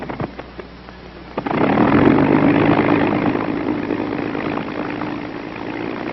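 A WWII P-39 Airacobra fighter's engine cranks, coughs and catches after about a second of quiet, then settles into a loud, steady propeller-driven idle rumble close by.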